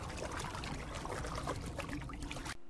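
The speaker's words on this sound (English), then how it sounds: "being deep under the ocean sounds exactly like someone splashing their hands in a Tupperware" Hands splashing in a Tupperware container full of water, used as an underwater effect for a deep-ocean scene, give a steady, dense, close sloshing and trickling wash that runs without pause and then cuts off abruptly near the end.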